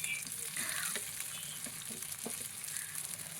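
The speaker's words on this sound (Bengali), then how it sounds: "এই ফাঁকে আলুগুলো উল্টিয়ে দিচ্ছি।" Potato pieces frying in a pan as they are flipped, a soft continuous sizzle with a few faint scrapes and taps of the turning utensil, quiet and steady throughout.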